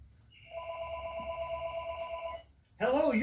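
Steady electronic telephone ring from a customer's incoming call in a sewing and vacuum shop, one sustained tonal burst lasting about two seconds, close and clear, followed by a person starting to speak.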